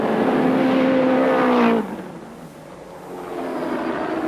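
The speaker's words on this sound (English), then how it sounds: "Watch the car go around this corner, how sideways it gets." A rally car at the 1991 Rally Australia slides sideways through a corner with its engine roaring at high revs, then the note cuts away and fades into a more distant engine drone.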